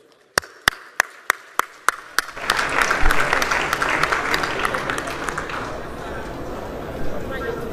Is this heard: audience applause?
yes